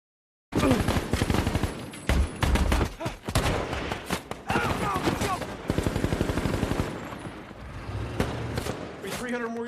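Dense gunfire from a battle scene in the film American Sniper, with rapid bursts and automatic fire in close, loud volleys alongside explosive thuds, and a voice narrating over the shooting.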